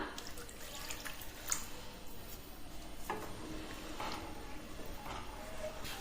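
Faint liquid sounds and soft drips as a little water is added to a pan of mashed tomato and onion, with occasional light clinks and stirring, quiet and steady throughout.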